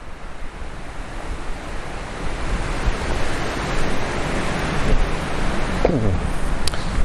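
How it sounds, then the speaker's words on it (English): Wind rushes and buffets the microphone in a constant roar that grows louder toward the end, with a brief faint whistling sweep. "It is quite windy today"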